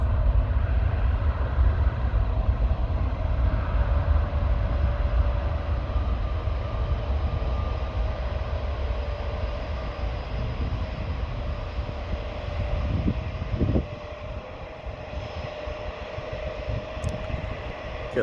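A KLM airliner takes off from the Aalsmeerbaan runway 18L at Amsterdam airport, its engines roaring as a loud, steady broadband rumble that holds for the whole stretch and eases slightly toward the end.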